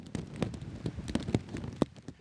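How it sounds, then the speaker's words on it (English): Scattered taps and patters of a rain shower striking a surface on Gozo Island, Malta, irregular and fairly close, with a faint background hiss. "To make matters worse, it starts raining."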